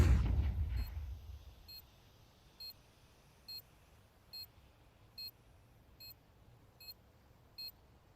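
A planted bomb in Counter-Strike ticks out short, high, evenly spaced beeps, about one each second, after a louder burst of sound at the start fades away, leaving the beeps alone over a quiet background.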